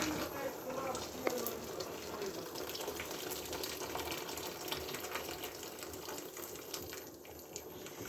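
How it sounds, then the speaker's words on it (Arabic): Water runs into a cooking pot holding onion for Moroccan rfissa, a steady faint gushing pour lasting throughout, with someone talking over it. "ودابا الماء هنا راه طيب، هو باش غادي نروي كما تشوفوا"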